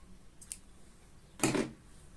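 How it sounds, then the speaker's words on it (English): Scissors snip through crochet yarn after the last stitch of a tapestry pillow is fastened off: a faint click, then one crisp, closer cut in an otherwise quiet room. "Cut your yarn, and that's it."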